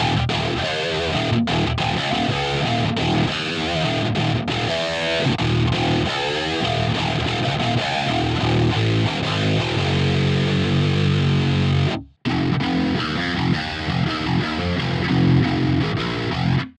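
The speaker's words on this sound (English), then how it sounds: "There are a ton of awesome sounds, including these super high gain, very heavy presets" Thick, heavily distorted high-gain heavy metal preset on a Shreddage 3 Argent virtual 9-string guitar, chugging and riffing with dense saturation, playing continuously with a brief cutoff near the end.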